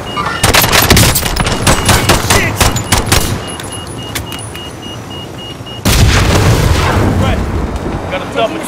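Loud, rapid machine gun fire in Call of Duty: Warzone, dense bursts of sharp shots in a first stretch, a brief lull, then another burst of heavy fire close by.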